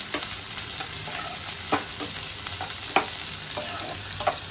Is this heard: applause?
no